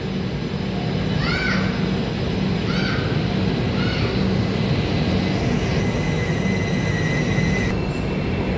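A Vasco da Gama–Secunderabad passenger train hauled by a WAP-7 electric locomotive pulls away from platform one at Hubli railway station: a steady, loud rolling rumble, with a few short rising whistle-like squeals early on and a thin high tone later.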